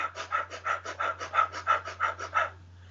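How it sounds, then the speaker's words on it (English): Rapid, rhythmic panting breaths demonstrating fast breathing that oxygenates the body, about nine quick even pulses in under three seconds, close and clear over a low steady hum. "you go into a fast breathing, which oxygenates the body"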